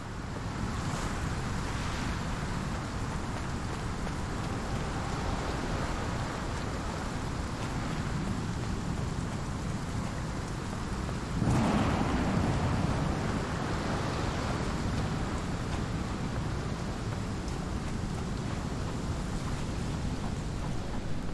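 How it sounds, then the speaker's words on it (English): Steady rain and wind hiss inside the video game Sherlock Holmes: The Awakened, a continuous wash of falling water with one brief louder rumble midway like distant thunder, no voices. "And rain."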